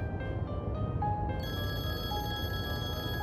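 A telephone rings steadily with a bright, sustained electronic tone, fairly quiet against a low background hum, with no voices over it.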